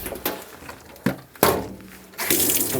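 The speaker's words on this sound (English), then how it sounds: "Some fresh warm water." Warm tap water runs and gushes into a tub for rinsing a mini Groodle dog during a mobile grooming bath, flowing in uneven bursts that swell louder near the end.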